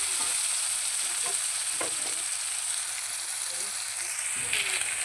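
Fish fry in a pan, a steady sizzle of hot oil running throughout while the pieces are flipped, with a few soft scraping and tapping sounds from the turning.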